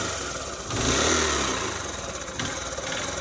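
A 2018 Honda CB Shine 125cc BS4 motorcycle, said to have a carburetor problem, starts up and its engine runs and revs close by, swelling briefly then settling into a steady, rough running note with no talking.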